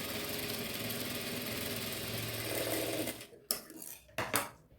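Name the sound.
sewing machine stitching pillow cover fabric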